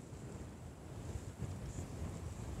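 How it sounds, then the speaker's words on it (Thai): River water surging against large rocks beside a stone flood wall at Kaeng Hin Ngam, a low, steady churning rush close to the microphone, with wind noise over it. "มีเสียงตรงนี้มันปะทะหินก่อนแล้วค่อยผ่าน"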